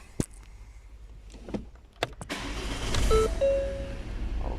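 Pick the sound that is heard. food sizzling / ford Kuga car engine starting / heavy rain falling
ford Kuga car engine starting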